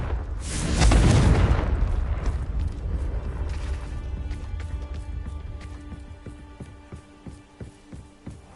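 A Confringo fire spell explodes in Hogwarts Legacy with a loud, deep boom that swells and then rumbles away over a few seconds, followed by scattered clattering and crackling debris settling, with no talk.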